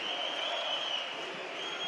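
Crowd applauding at a women's world boxing championship final in Istanbul as a boxer salutes from the ring, a steady, dense wash of clapping heard from a distance throughout.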